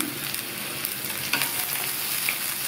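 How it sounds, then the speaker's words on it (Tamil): Thinly sliced carrot and fresh green peas sauté in a hot pan, giving a steady, close sizzle and frying hiss with a few light stirring scrapes and no talking. "இதை லைட்டாக வதக்கி விட்டுக்கலாம்."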